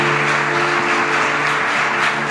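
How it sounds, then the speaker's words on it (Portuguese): A church congregation applauds during a worship service, with sustained, dense clapping over a held musical tone, loud and steady for the whole stretch. "Vamos aplaudir o nosso Jesus por eles"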